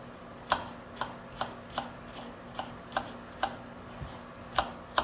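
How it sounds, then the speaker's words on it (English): A knife chops an onion on a cutting board in about a dozen steady, evenly spaced strokes, close and fairly quiet, with no talking. "So we're going to cut up an onion."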